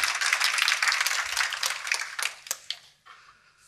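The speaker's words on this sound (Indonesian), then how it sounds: "Tepuk tangan untuk kebenarannya." Audience applause in a church service, a dense burst of clapping that thins out into a few scattered claps near the end, fairly close and moderately loud.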